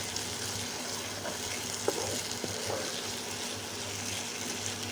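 Beef brain cooking with dried fish and vegetables in a pan, stirred in the middle, a soft steady sizzle with a few light scrapes and knocks, under a low background hum.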